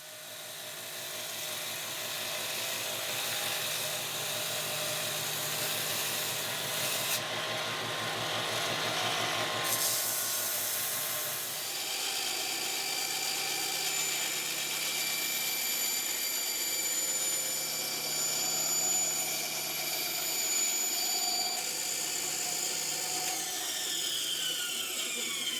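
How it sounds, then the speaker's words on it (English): A power sander grinds steadily on a walnut vintage hand tool during restoration, a loud continuous whirring drone that briefly shifts pitch as pressure changes, with no voices. "I'm going to mask up and I'm going to sand this thing down a little bit."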